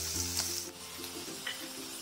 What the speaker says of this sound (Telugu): ఆయిల్ వేడెక్కాక తరిగి పెట్టుకున్న ఆనియన్స్ వేసి ఫ్రై చేసుకోవాలి.